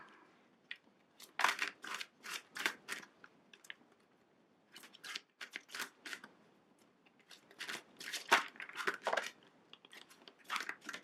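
Tarot cards being shuffled by hand during a reading, giving bursts of crisp papery riffling and snapping in quick clusters, pausing, then resuming, close up with no talking.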